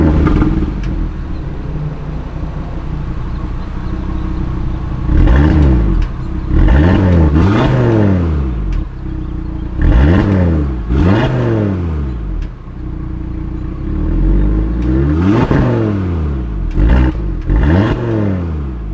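A 2020 Audi TT RS five-cylinder engine with optional sport exhaust revs hard in repeated bursts, each rising and falling pitch sweep loud and close over a steady idle, with no talk.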